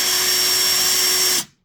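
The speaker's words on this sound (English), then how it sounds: "So this is my Ryobi drill." A Ryobi power drill runs steadily at full speed with a constant high whine and a clear tonal hum, then cuts off abruptly and spins down to silence, close and loud with no talking.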